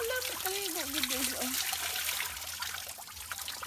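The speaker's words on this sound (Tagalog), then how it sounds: "siyang kusog ang tubig" Strong spring water pours freely at a mountain spot, a steady broad rushing wash that fills the scene, with a voice speaking over it at the start.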